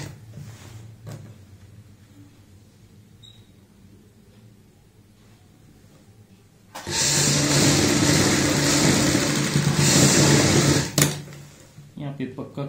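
An electric sewing machine stitches lace onto the sleeve of a kurti, whirring loudly and steadily for about four seconds in a single run, preceded and followed by quiet talk.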